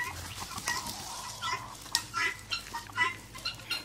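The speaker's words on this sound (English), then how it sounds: "There's that wild guinea." A half-lavender, half-standard guinea fowl near a chicken coop gives repeated harsh, rhythmic calls at moderate distance, with clucking chickens and farmyard noise around it.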